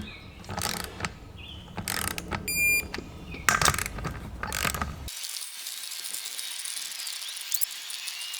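Wrench ratcheting as beadlock ring bolts are tightened on a Cummins drag truck racing wheel, several short bursts of clicking with pauses between, followed by a quieter stretch of faint hiss.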